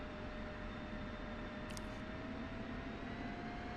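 A steady, even engine drone hums throughout as an aircraft taxis toward the runway in a flight simulator game, with a brief faint high hiss midway and no talking.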